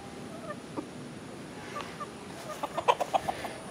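Chickens clucking in a backyard pen shared with rabbits, faint and somewhat distant at first, then a run of quick, louder clucks near the end.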